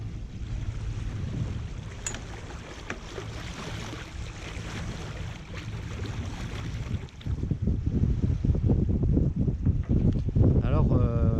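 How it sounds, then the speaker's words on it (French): Waves lapping and sloshing against the hull of a sailboat at anchor off Porto, Corsica, an irregular watery wash with wind noise, growing louder and more churning toward the end. "Je vous laisse profiter du bruit des vagues sur la carène."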